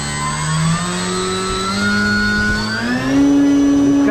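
An electric motor on an 850mm RC Pitts S-1S biplane runs at full throttle, a loud, steady, close whine that holds and then climbs higher in pitch near the end.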